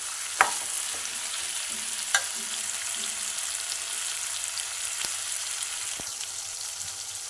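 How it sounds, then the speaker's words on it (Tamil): Chicken pieces and taro root stirred in a pan with masala, a steady soft frying sizzle under occasional spatula scrapes and a few sharp knocks against the vessel, close by and without voices. "ஒரு 2 நிமிஷம் வந்து மசாலாவோட இதுவும் வந்து வதங்கட்டும்."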